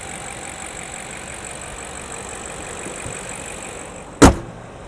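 A 2020 BMW Alpina B7 xDrive idles with a steady, even hum, close and unchanging, until a single sharp knock near the end.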